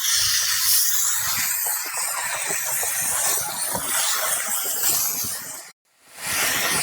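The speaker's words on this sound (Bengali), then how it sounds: "এবারে ওই জলটা দিয়ে মশলাটাকে একটু কষিয়ে নেব" Biryani spice masala sautéing in a pot with added water gives a steady, loud broadband hiss and sizzle that cuts off abruptly near the end, then resumes.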